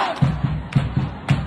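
A crowd at a rally in Ottawa chanting in a rhythmic, repeated beat about every half second, loud and close with many voices together.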